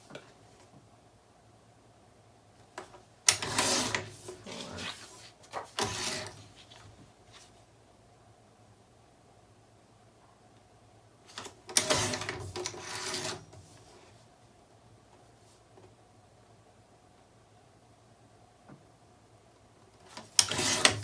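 Paper being trimmed for a mini album with a paper trimmer, three separate bursts of rasping blade slides separated by quiet pauses, close and moderately loud.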